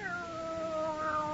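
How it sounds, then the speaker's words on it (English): A cat gives one long, drawn-out meow with a slowly falling pitch, close and clear, lasting over a second with no voices. "What a beautiful, beautiful cat."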